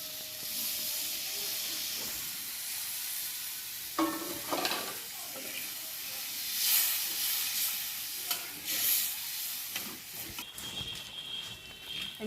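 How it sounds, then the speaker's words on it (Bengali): Lukewarm water poured into a pan of broccoli and potato curry, a steady hissing sizzle with scraping stirs and clinks throughout, close and moderately loud with no voices. "এখন আমি দিয়ে দিচ্ছি হালকা গরম জল"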